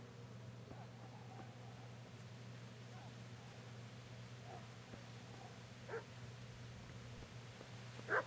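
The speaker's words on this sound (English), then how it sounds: "Where is this dog?" A dog in the medieval open-world game Kingdom Come: Deliverance gives a couple of brief, faint barks near the end, set over a low, steady background hum.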